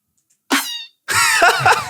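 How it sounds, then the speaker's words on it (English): Cat meow sample used as a snare hit in a song, a short loud meow-like cry followed by a longer, brighter strained cat wail, close and prominent against silence. "It might not be called meow. It's called like cat snare."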